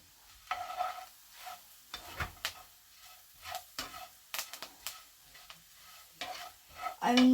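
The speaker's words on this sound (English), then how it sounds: "And the sage. The parsley. And mix it all together." Sage, parsley and onion stuffing being mixed together by hand in a bowl, with a run of soft, irregular stirring and scraping sounds, close and moderately quiet, with no talking.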